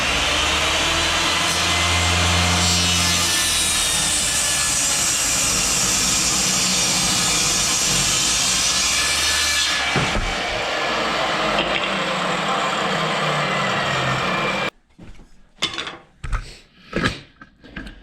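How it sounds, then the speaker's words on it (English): A power saw fitted with a freshly resharpened blade cuts through a wooden board, giving a loud, steady whining roar that runs for about ten seconds, drops in pitch as it winds down, then a few short knocks and clatters. "I'm gonna cut this piece of board and see how well it does."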